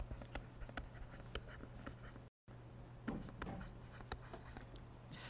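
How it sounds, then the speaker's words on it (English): A word is written out by hand during a physics lesson, with soft, scratchy strokes in short bursts over a steady low hum. The sound drops out briefly partway through. "I'll even write that word out."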